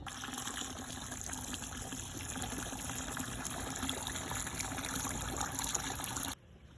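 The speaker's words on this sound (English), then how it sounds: "Now we're going to add water on top of it." Steady water pouring and trickling onto a soft mass of quail feed, continuous and close, ending abruptly near the end.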